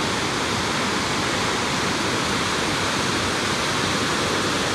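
Tarabu waterfall in Andhra Pradesh, a steady, loud broadband roar of falling water heard close by, unbroken throughout with no voices.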